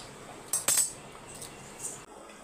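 A few metallic clinks and scrapes of a utensil against a pot of curry with coconut milk, two sharp knocks close together, then quieter scraping, with no talking.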